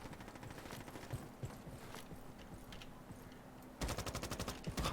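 Rapid single-shot gunfire in the Roblox shooting game Frontlines, a steady string of sharp cracks throughout, turning into a louder, faster burst near the end.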